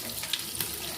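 Fenugreek seeds fry in hot oil at the start of a home-style fish curry, making a soft, close sizzle with a few small pops over a brief moment.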